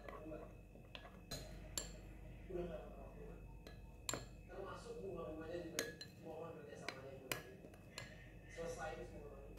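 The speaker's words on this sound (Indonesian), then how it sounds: "Aduk-aduk hingga semua bahan tercampur merata." A metal spoon clinks and scrapes against a bowl of sauce with sweet soy sauce in repeated stirring strokes, with sharp taps scattered throughout, close by with quiet background noise.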